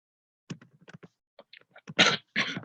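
Faint rustling and clicks lead into two harsh, breathy coughs close to the microphone.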